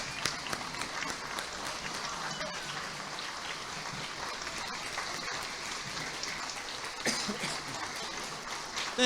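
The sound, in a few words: audience applause for Father Gary Goyeau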